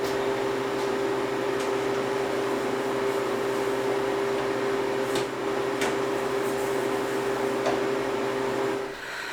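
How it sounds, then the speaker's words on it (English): A freeze dryer runs with a steady mechanical drone and constant tonal hum, with faint clicks scattered through it. "We're gonna go put these in the freeze dryer"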